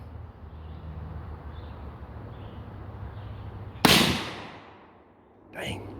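Large-caliber magnum revolver, such as an X-frame, BFR 500 Mag or Raging Hunter 460 Mag, fired once at an outdoor range, a single sharp, loud blast with a rolling decay after a quiet lead-in and a faint later pop.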